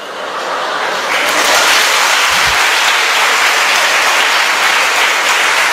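A large audience at an education talk breaks into loud, sustained applause, a dense continuous wash of clapping that swells in the first second and holds steady, with no speech over it.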